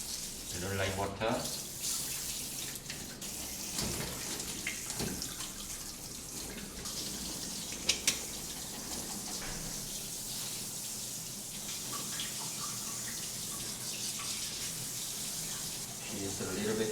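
Steady running water pours and splashes while a Pomeranian dog is rinsed during grooming, a continuous close hiss with a few brief clatters.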